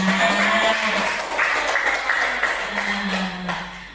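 An audience applauds for Bunda Erna at the close of a school seminar, a sustained wash of clapping that slowly fades, with faint tonal sounds beneath.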